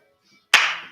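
A single sharp hand clap during a fitness routine, crisp and close after near silence, with a short decaying tail.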